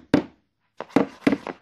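A Hitachi NT1865DMA 18-volt cordless 15-gauge nailer driving inch-and-a-half nails gives a few sharp, close thunks, one alone and then a quicker pair, with silence between.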